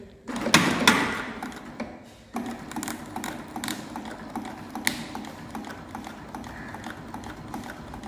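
A sewing machine stitches a leather coin pouch with slow, uneven mechanical clicking and tapping, close by, with louder knocks near the start and irregular stitch taps throughout.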